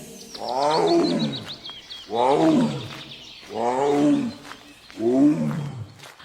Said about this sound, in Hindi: दो बाघ दहड़ते हुए जंगल के अंदर एक नदी के किनारे जाकर पानी पीने लगते हैं।